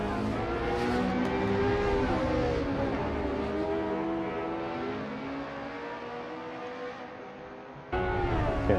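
Lotus 49 Formula 1 car from the historic era racing at Spa-Francorchamps in Assetto Corsa, its engine note rising and falling steadily through gear changes, loud and close throughout with a brief dip near the end.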